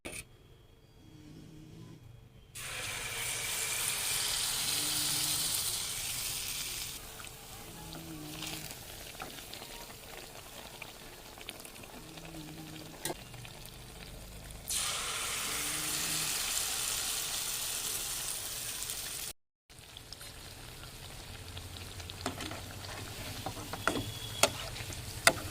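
Palm malpua batter fries in hot oil in a wok, giving a steady, soft sizzle that swells and fades in waves as new batter goes in, with faint ticking in the background.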